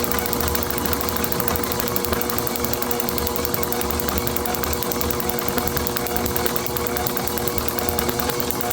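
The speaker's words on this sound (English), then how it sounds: "you can hear by the clicking that it is not missing a beat" International TD-6 or Farmall MD tractor H4 magneto, freshly overhauled, ticking steadily as it fires, slowed down; a dense, even run of clicks over a constant mechanical hum, with no talking.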